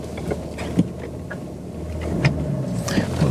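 Interior of a BMW 330d pulling away for a drive, with a low steady engine rumble, a few soft clunks and light mechanical ticks, and no speech.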